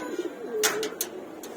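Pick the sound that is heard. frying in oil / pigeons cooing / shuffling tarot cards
pigeons cooing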